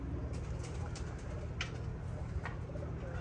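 Racing pigeons coo softly among faint scattered bird calls over a steady low background rumble, brief and moderately distant.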